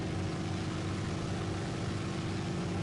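Steady, droning aircraft engine from the War Thunder combat flight game, running continuously at a constant pitch with a dense low rumble and no voices.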